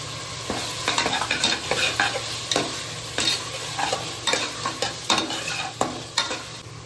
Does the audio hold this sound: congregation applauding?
no